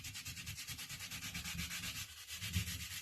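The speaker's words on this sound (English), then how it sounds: "this sanding is like an inspection of the condition of the material" Rhythmic back-and-forth strokes of sandpaper on the wood of an English longbow, close and fairly quiet, repeating at a steady pace with no talking.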